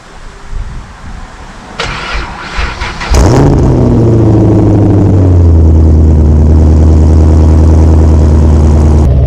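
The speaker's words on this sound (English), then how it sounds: "let's get this cold start going" A Dodge SRT car engine with a big turbo cranks briefly on a cold start, catches with a loud roar and settles into a steady, high idle that drones on, with no one talking.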